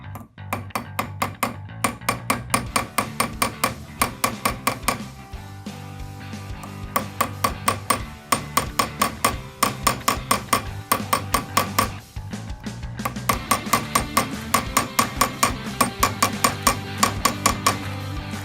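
A hammer strikes metal while jewellery rivets are set, giving sharp, ringing metallic taps in a steady, fast rhythm that pause briefly and then carry on, close and loud.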